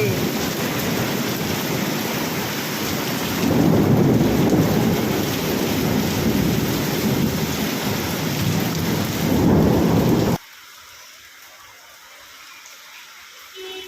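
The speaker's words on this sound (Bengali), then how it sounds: "জোরে বৃষ্টি পড়ছে বিদ্যুৎ চোখ আবারে লাইটিং হচ্ছে" Heavy rain pours in a constant roar while thunder rumbles low and loud, then the sound cuts off abruptly near the end.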